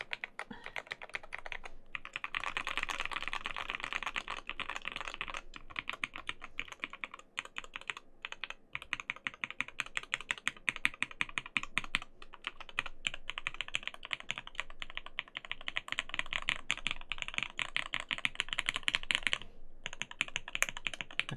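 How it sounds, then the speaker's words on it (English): Steady, rapid typing on a custom Satisfaction 75 R2 mechanical keyboard fitted with OA switches, a dense run of crisp clacks with brief pauses, close and clear with no talking. "Sounds like a keyboard."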